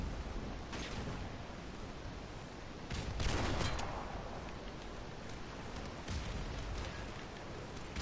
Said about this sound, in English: I'm throwing a nade over at B.